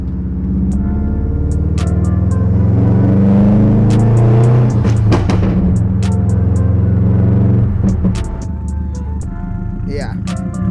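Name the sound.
straight-piped Subaru STI exhaust revving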